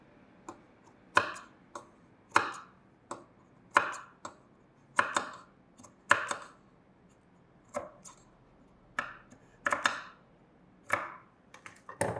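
Fabric being snipped with tailoring scissors to shape sleeve pieces, a steady run of about a dozen crisp, close cuts at roughly one-second intervals, each a short sharp crunch with no talking.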